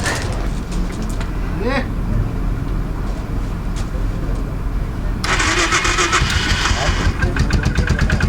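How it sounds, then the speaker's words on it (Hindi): A motorcycle engine cold-starts at about 4 degrees on the way to Leh, cranking, then catching and settling into a loud, rattling idle, close up, with a voice audible near the start. "तो ये अब बाइक को कोल्ड स्टार्ट करते हैं."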